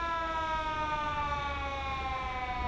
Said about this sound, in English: This is an old Inglewood fire truck